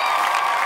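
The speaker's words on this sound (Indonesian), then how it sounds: "Boleh iringi tepuk tangan lebih meriah lagi teman-teman semua" A television dance competition audience applauds and cheers after a dance performance, a dense, loud wash of clapping with crowd noise throughout the brief moment.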